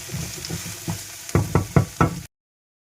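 Okra frying in a pan, a soft steady sizzle with a few louder scraping stirs near the end, close, no voices.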